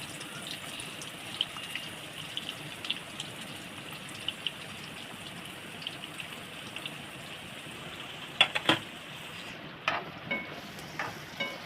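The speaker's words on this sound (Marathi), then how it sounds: "यामध्ये मी सोयाबीन घालते तेलामध्ये फ्राय करायला" Soybean chunks fry in hot oil in a home kitchen pan, giving a steady soft sizzle with scattered pops and a few sharper crackles near the end, with no talk.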